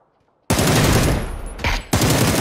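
Beryl M762 rifle fire in the PUBG video game, loud rapid full-auto bursts close up, with a brief lull between two sustained volleys.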